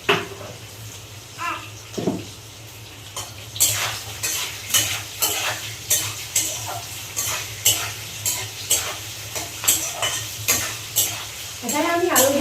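Dried pork and onion are stir-fried in a pan, with rhythmic spatula scrapes roughly every half second over a continuous close sizzle.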